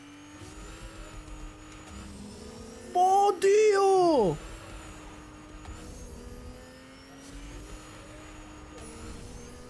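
A car in the video game Fortnite drives with a steady engine drone, then revs loudly in a sharp, rising and falling burst before settling back, while a player talks excitedly over it.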